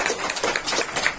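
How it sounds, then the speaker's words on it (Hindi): Applause from an audience of parents at a school management committee meeting in a rural Indian primary school: dense, steady clapping that fills the whole short stretch at moderate level. "के लिए सबसे पहले जोरदार तालियां"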